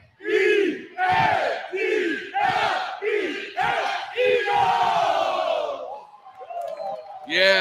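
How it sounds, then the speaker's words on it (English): A crowd of friends chanting an Eagles cheer, a series of loud rhythmic shouted syllables close by, each burst separated by short gaps, ending in cheering and whoops. "Our first Eagles cheer of the year."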